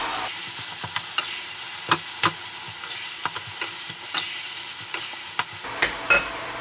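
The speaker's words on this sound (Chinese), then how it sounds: "翻炒均匀之后下入蒜末和姜末" Beef chili sauce with minced garlic and ginger is stir-fried in a wok, giving a close, steady sizzle. Sharp spatula clacks and scrapes repeat at a brisk, irregular pace, and no one speaks.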